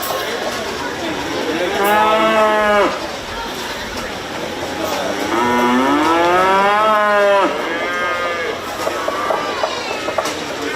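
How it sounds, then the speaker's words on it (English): Breeding heifers at a 4H county fair cattle show bellow in two long, loud moos a few seconds apart, with a fainter third call after, over steady arena hubbub. "Now we will bring back the registered and commercial breeding heifers to pick your overall champion and reserve breeding heifers."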